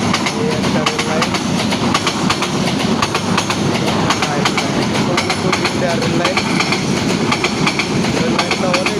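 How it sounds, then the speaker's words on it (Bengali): A train rolls past on a railway line, loud and close, with rapid rhythmic clickety-clack of wheels over rail joints and a steady rumble throughout. "একটা চলে গেল রেল লাইন।"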